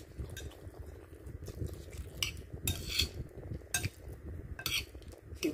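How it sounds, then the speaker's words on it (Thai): Fried egg and cabbage are tossed together in a dish, with utensils scraping and clinking irregularly against the bowl at close range. "คลุกเคล้าให้เข้ากันเลยนะจ๊ะแล้วมันก็จะอร่อยไปเอง"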